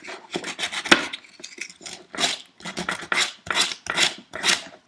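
Sandpaper rasps over wood filler on a carved wooden superhero nutcracker in short, uneven bursts of scratchy strokes with brief pauses between them, close and fairly loud.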